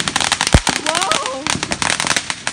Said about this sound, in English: Crash, why did you light one when I have 50 of these? This is the firework you need.